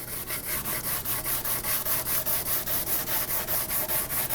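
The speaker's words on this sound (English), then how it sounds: "I'm going to bump up to some 150 and kind of come out here to the outside and keep the same consistent sand scratch throughout the whole thing." Hand sanding of a fiberglass part with 150 grit sandpaper, making a brisk, even back-and-forth scratching in a fast regular rhythm of about four strokes per second, close up and continuous, with no speech.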